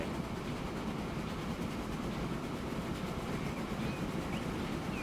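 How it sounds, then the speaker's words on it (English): A passenger train passes the opposite way in the railway game Transport Fever 2: a steady, faint rolling rumble with soft clickety-clack, continuous and unbroken, with no talk. "that's the sound of a passenger train going the other way"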